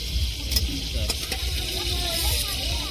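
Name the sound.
prawns frying in oil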